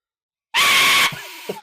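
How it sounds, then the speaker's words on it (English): A single loud, shrill whistle blast starts abruptly after a moment of silence, lasts about half a second, then fades into a fainter breathy tail. "I'll give this a whistle."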